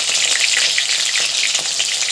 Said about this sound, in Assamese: মই ভাজি লম